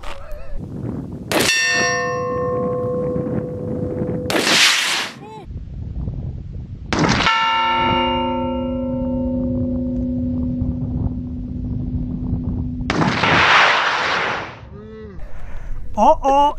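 Two 7.62x39 rifle shots, each followed by a long ringing metallic clang as the bullet ricochets off an oxygen bottle, the tone decaying over several seconds; bursts of loud whooping and voices follow each shot.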